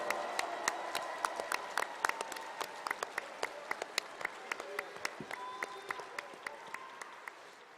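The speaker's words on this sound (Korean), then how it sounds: "이 두 분을 위해서 힘찬 박수 보내주십시오" Audience applause at a Korean party convention after new leadership is announced, a large crowd clapping steadily in a dense, sustained roar with sharper individual claps on top, a voice speaking briefly over it.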